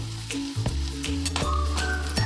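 Onion and green chili sizzle loudly in a pan while being stirred, with continuous crackling and a few sharp scrapes and clinks, close up.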